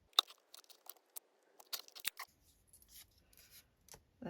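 Scissors snip through paper during journal collage crafting for a window envelope belly band, a run of sharp close cuts at varying pace, then quieter rustling and handling.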